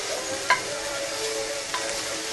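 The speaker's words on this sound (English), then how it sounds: "I'm just going to keep stirring" Garlic and lamb shanks sizzle steadily in a hot pot, a continuous frying hiss with a few sharp clinks of a utensil stirring against the pot's side.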